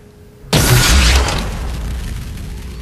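A rocket blows up against a hardlight shield in Halo 4, a sudden loud boom breaking a quiet moment and rumbling away over the next two seconds.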